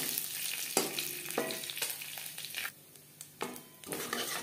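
Whole cumin seeds fry in hot oil as the base for a rui fish curry, giving a steady close sizzle broken by a few sharp stirring scrapes and clinks, with a brief quieter lull.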